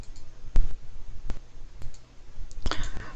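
A computer mouse clicks sharply a handful of times at uneven intervals, close and crisp, with a quicker cluster of clicks near the end.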